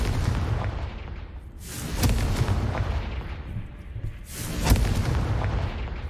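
Confringo fire spell cast in Hogwarts Legacy, two loud booming bursts with crackling tails, each roughly two seconds long and spaced a few seconds apart, over a steady game ambience.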